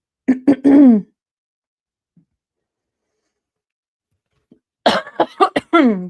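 Two short bursts of coughing, separated by a long near-silent gap with a faint tick in between.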